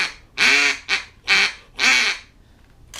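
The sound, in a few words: duck call blown badly, imitating duck quacks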